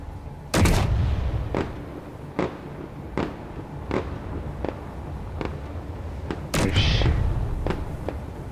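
Weapons fire in Space Engineers as a series of heavy, booming shots spaced about a second apart, each with a sharp attack and a rumbling tail, with a louder double blast near the end.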